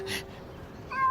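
A cat stuck up high meows, two short cries close by, the second a rising high-pitched mew.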